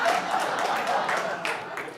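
An audience at a breakfast briefing bursts into applause and laughter, a moderate wash of clapping and chuckles with voices mixed in.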